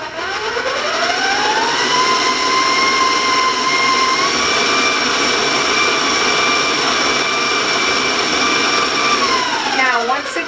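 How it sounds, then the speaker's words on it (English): An electric hand mixer runs steadily at speed while beating brownie batter for chocolate cinnamon brownies, giving a loud continuous whirring drone with a pitch that rises and then holds level for the whole stretch. "I'm going to turn on the mixer and do it a little bit quicker"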